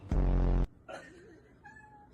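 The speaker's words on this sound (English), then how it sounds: "So this is my cat." A pet cat lets out a couple of meows, the first loud and sustained, then softer, wavering calls, heard close with little else around.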